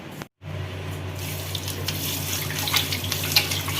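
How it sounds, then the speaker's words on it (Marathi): Tap water runs steadily into a basin as a new stone mortar and pestle, previously treated with turmeric, are rinsed, with louder splashes and scrubbing surges after a brief silent gap at the start. "आता आपण याला एकदा परत धुवून घेऊयात बेसिनमध्ये."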